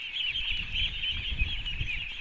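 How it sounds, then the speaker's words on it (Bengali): Ducks on a farm of about a thousand birds in a haor wetland area, giving a steady continuous chorus of calls and quacking with low scuffling noise beneath, no one speaking. "প্রচুর হাঁস এখানে"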